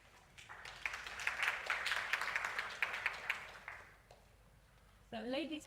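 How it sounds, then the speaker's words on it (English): An audience at a conference panel session applauds, with a dense round of clapping that swells, holds for a few seconds, then thins out and fades, followed by a voice beginning to speak. "time to start panel number 2 with a hot round of applause"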